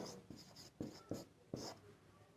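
Someone writes examples by hand in a quiet room, making five or six soft, scratchy strokes at an uneven pace.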